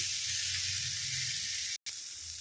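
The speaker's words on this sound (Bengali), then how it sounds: "এটাকে এইভাবে ভালো করে ভেজে নিয়ে ফিরছি।" Okra frying over lowered gas in oil seasoned with fenugreek and asafoetida, a soft continuous sizzle with faint low rumble, broken by a brief silent gap near the end.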